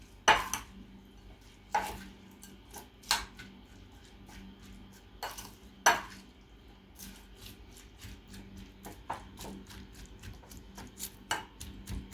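Onion pickle is mixed with tempered oil, chilli and turmeric, giving sparse, sharp clinks and taps of a spoon against the bowl at irregular intervals over a quiet background.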